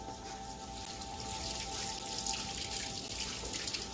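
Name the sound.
washing a whisk under running tap water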